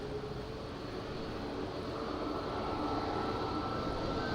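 An airplane takes off from runway 05 at Madeira Island Airport in strong wind, its engine roar steady and broadband throughout, growing slightly louder toward the end with no talk over it.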